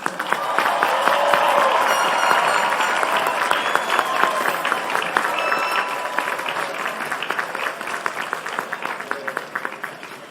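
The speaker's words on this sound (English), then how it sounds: "A round of applause" A commencement audience applauds for graduating seniors, dense sustained clapping that starts full and loud and gradually thins toward the end, with individual claps becoming more distinct.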